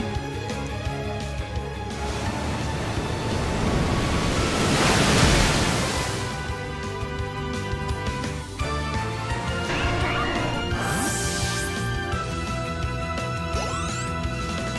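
Ocean waves wash and swell while surfing in the Nintendo Switch game Pokemon Let's Go Pikachu, with one loud rushing surge midway over steady background music.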